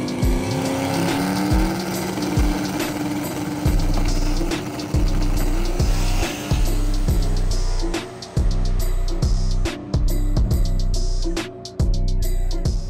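Turbocharged nitrous drag race cars at a no-prep track, engines roaring loud and close with repeated sharp revving bursts and brief cutouts, a sustained mechanical blast running throughout.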